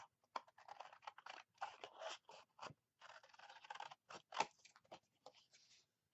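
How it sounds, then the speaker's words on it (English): Close, quiet snipping and scraping of scissors slicing through scored paper in short irregular bursts, separated by brief silences. "I'm just going to cut using scissors."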